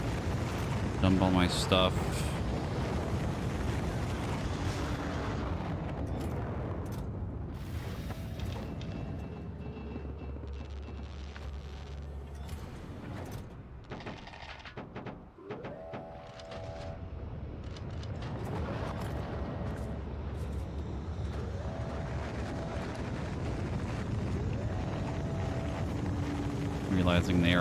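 In Factorio, a rocket launches with a heavy, sustained rumbling roar. It dips briefly midway, then swells again, while someone talks over it.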